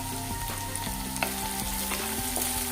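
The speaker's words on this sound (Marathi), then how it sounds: "आलं लसूण परतलं की ह्यात बारीक चिरलेला कांदा घालायचा आहे" Finely chopped onion frying in a pan with ginger and garlic for a boiled-egg dish; a steady, close sizzle runs throughout with faint stirring, and no voice is heard.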